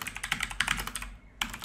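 Rapid keystrokes on a computer keyboard entering a terminal command, a quick run of close, crisp clicks with a short pause before a final key press.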